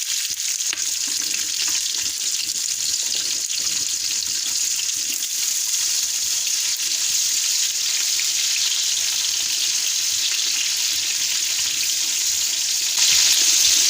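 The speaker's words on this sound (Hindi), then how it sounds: "अब इसमें हम अपनी प्याज ऐड करेंगे।" Onions hit hot oil in a pot for Afghani mutton pulao and give a loud, continuous sizzle that holds steady throughout, with a slight rise near the end.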